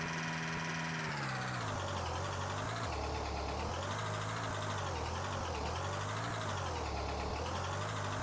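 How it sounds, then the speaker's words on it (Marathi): A car drifting in the Roblox video game, a continuous loud engine drone whose pitch wavers up and down repeatedly as the car slides, steady throughout with no talk. "आता ड्रिफ्ट बघा"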